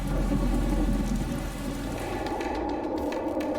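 Heavy monsoon rain in Arunachal Pradesh, a dense steady hiss of rain pounding surfaces with a deep low rumble of thunder underneath, loud and continuous, no voices.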